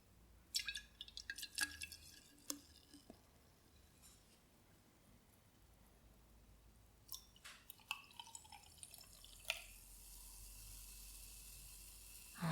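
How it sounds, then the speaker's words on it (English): Kombucha fizzes quietly in a glass, its faint steady bubbling broken by scattered sharp little pops and crackles, with no voices present. "I'm not sure if you like the sounds of those bubbles."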